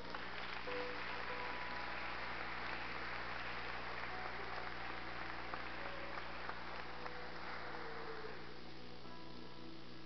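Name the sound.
congregation applause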